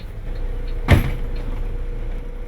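A bus driver's door is checked, giving a single short, solid thump against a steady low engine hum.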